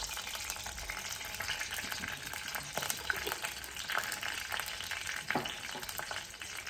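Steady crackling sizzle of small seeds popping in hot oil, close and continuous, with a few sharper pops standing out.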